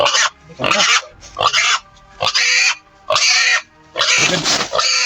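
Pig grunting in a rural Filipino family setting, loud and close, coming in about six rough bursts separated by brief pauses.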